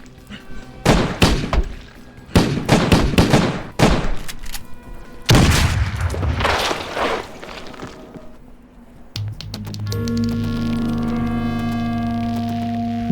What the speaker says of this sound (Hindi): गोलियां जाया कर रहे हो कमीनो,